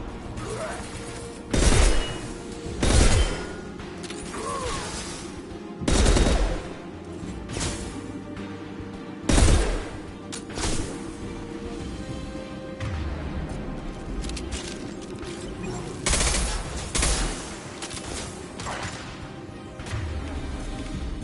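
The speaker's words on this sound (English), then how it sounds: "Firing a high-impact shot." High-impact shots fire in the game Mass Effect 2, several heavy, booming blasts spaced a few seconds apart, each with a sharp crack and echoing tail over a continuous mechanical combat background.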